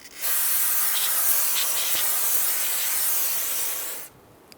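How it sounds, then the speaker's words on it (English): A steady, loud aerosol brake cleaner spray hisses continuously for about four seconds up close on a brake rotor, then cuts off abruptly. "I'm just going to brake clean that off."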